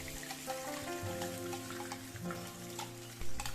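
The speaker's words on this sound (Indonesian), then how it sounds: "kemudian kita masukkan minyak goreng secukupnya, kemudian kita tumis untuk bumbu yang sudah dihaluskan" Spice paste for chicken noodles being sautéed in cooking oil, a steady close sizzle and crackle of frying with a few stirring clatters and scrapes, no voices over it.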